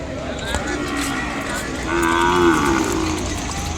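A red, pure-bred Ongole calf lets out a drawn, low moo at close range, rising in the middle, against a noisy outdoor cattle-market background.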